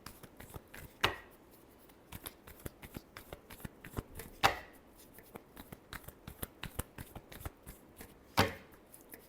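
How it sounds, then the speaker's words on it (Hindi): Tarot cards are shuffled by hand in quick riffling bursts with many sharp taps and flicks between them, three louder riffles standing out, close and with no voices. "last shuffle"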